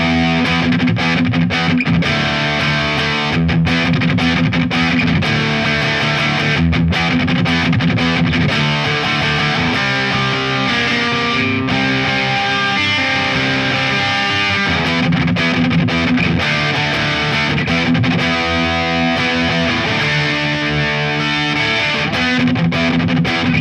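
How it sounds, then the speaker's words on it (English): Heavily distorted electric guitar, a Gibson SG set to high gain, plays a continuous chugging riff with sustained chords, loud and close throughout with no talking. "what about the high distortion one?"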